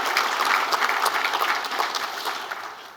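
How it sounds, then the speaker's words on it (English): Audience applause at a regional chamber of commerce annual meeting, a short burst of dense clapping from a sizable crowd that gradually fades. "Can we please give our Spirit Award recipients another round of applause"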